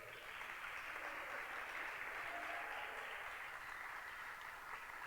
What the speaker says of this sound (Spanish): Démosles un aplauso fuerte.